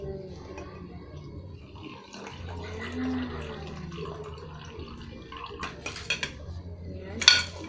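A spoon clinks and scrapes against a glass while a dalgona coffee mixture is stirred, with soft intermittent clatter and a few sharp taps near the end.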